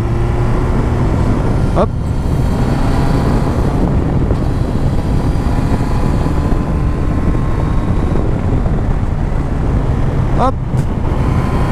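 A motorcycle engine downshifts and leans through a bend, a loud, steady drone with wind rush that shifts pitch slightly around two short gear changes, while someone speaks briefly over it.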